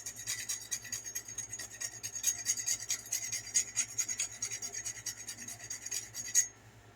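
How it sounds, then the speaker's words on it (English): A whole nutmeg is freshly grated in a home kitchen, giving a continuous close raspy scraping with quick back-and-forth strokes that stops abruptly near the end. "That's a whole nutmeg. And I'm going to fresh grate."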